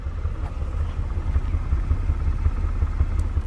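Low, steady idle burble from a Kia Telluride SX Nightfall Edition with a 3.8-liter V6, a continuous rumble heard from close by with no other sounds over it.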